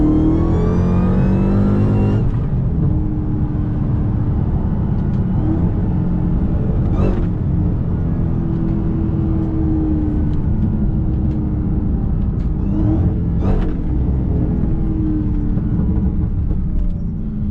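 A 730 whp SRT Hellcat drag races a Camaro 2SS, engine roaring loud and close from inside the car, with a sharp upshift early on, then a long sustained wail with brief spikes of shifting.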